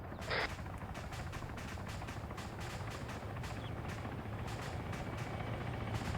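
A helicopter flies around during a military video game session, its steady low rotor drone filling the mix at moderate level, with a brief burst of noise near the start and faint sharp clicks scattered throughout.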